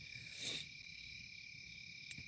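Crickets chirp at night in the woods outside a tent, a faint, continuous high trill with a soft brief rustle near the start.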